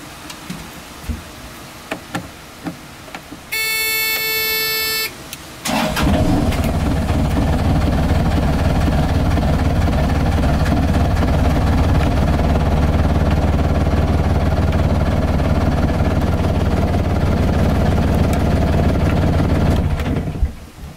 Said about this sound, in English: We can start the engine with a screwdriver, seeing as the key is still in there.